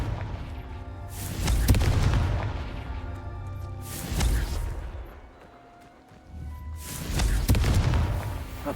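Three heavy, booming blasts from the Confringo explosion spell in Hogwarts Legacy, spaced a few seconds apart, each a loud thudding burst that rumbles and fades before the next.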